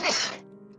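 A single short sneeze bursts out sharply, then fades into a faint tonal hum within a second.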